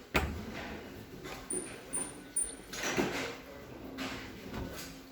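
Kitchen drawers in a showroom slide open and shut several times in a row, each a soft rolling glide ending in a muffled bump, close by and moderately quiet.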